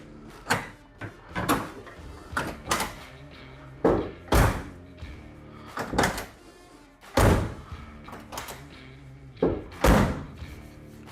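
Repeated solid thunks and slams come from a door being fitted and closed on a 1974 Ford Maverick, each sharp impact separated by brief pauses, with several in quick succession.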